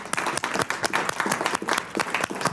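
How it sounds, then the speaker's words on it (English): An audience at a keynote seminar in Phoenix gives volunteers a warm round of applause, with loud, close, continuous clapping from many hands throughout. "So can we give our volunteers a warm round of applause for participating?"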